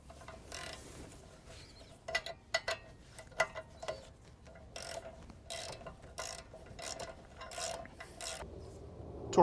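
A hand ratchet torquing down the brake caliper actuator on a 2020 Infiniti QX50 during a brake pad job: sharp metallic clicking strokes in uneven bursts over a low mechanical background, close up, with no talk.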